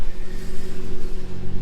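A 2008 Lamborghini Murcielago LP640 drives along with a steady, loud engine drone and low rumble, pulsing slightly as it moves, with no talking.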